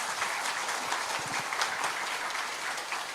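An audience at a worship gathering applauds the keyboard player with steady, dense clapping that holds at an even level for the whole stretch, with no voices over it.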